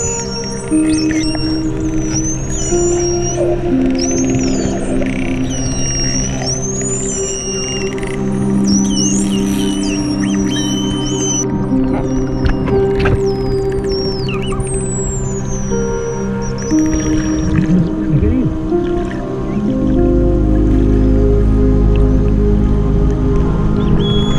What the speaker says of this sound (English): the pilot whales were just deafening as they were making noise, squealing at that fish